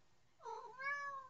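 A cat meows clearly and close by, a rising then falling call followed by a second drawn-out meow, with no talk over it.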